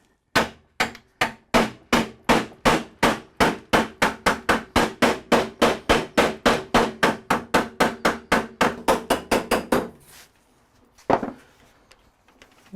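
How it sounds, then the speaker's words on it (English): Rapid, steady hammer blows strike a custom metal patch, around thirty sharp close metallic taps in an even rhythm that quickens slightly before stopping, followed by a couple of softer knocks. "I really don't have a good way to fix that other than just hammering on it."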